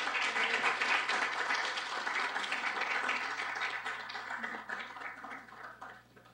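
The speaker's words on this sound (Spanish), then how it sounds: "Yo quisiera pedirles a ustedes que le brindemos un aplauso" Audience applause at a lecture on housing-related illnesses, a fairly faint, steady spread of clapping that gradually thins and fades out at the end.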